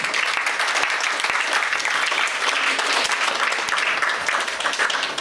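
An audience at an award ceremony and inauguration bursts into sustained, dense applause, loud and even throughout with no speech over it.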